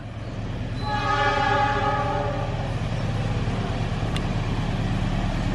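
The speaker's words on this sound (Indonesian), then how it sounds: "deru mesin dari KA 159 sudah terdengar dan akan segera bermanuver menikung" The KA Lodaya 159 train rounds a bend between Karangpucung and Bojong stations with a loud, steady diesel engine roar, and a harmonic horn blast rises over it partway through.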